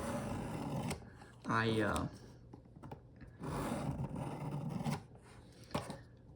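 Knife blade drawn across the abrasive of a Work Sharp guided sharpener in repeated rasping strokes, each a second or so long with pauses between, close and fairly quiet, as someone talks between passes.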